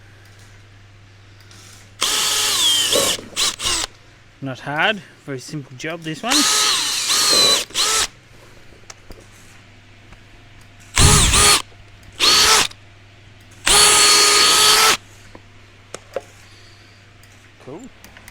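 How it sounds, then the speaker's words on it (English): A power drill whirs in several loud bursts of a second or two each, drilling holes in mud flaps, separated by pauses, with someone speaking briefly between them. "I've marked them, and just drill them out."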